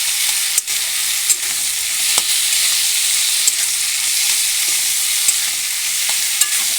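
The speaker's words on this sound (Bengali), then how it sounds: "আমি কিছুক্ষণ এভাবে নেড়ে চেড়ে দেবো।" Taro greens with a hilsa fish head frying steadily in a pan, a continuous loud sizzle broken by a few sharp scrapes as the mix is stirred, with no voices.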